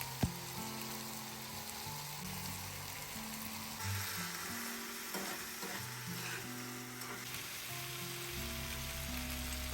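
Noodles with seasonings and sauce sautéing in a pan give a soft, continuous sizzle with faint stirring, quiet and partly masked by background music throughout.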